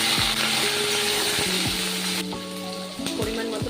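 Capsicum and green chillies fry in oil in a pan with a loud, hissing sizzle, broken by several sharp clanks of a utensil against the pan; no voices.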